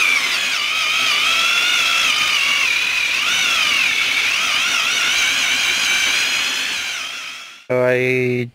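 A smoking, overworked power drill runs continuously with a high, wavering whine while boring holes during an AWD Honda Civic conversion, close and loud, then stops abruptly before a brief different sound at the end.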